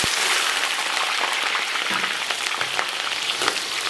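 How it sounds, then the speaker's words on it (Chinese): Scallion, ginger and garlic hitting hot, lightly smoking oil in a wok, giving a steady, loud sizzle with crackling pops throughout, close up and with no voices. "咱们把葱姜蒜给它下里边"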